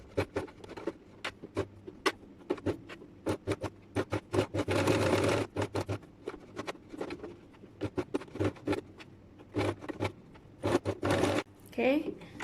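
A sewing machine top stitching a patch pocket with flap, heard as rapid runs of close mechanical clatter broken by brief pauses, with louder sustained stretches midway and near the end.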